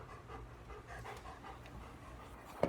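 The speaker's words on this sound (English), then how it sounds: "My dog Pepper is right here at the bottom of the keyboard" A dog pants quickly and steadily close by, a soft rhythmic breathing throughout.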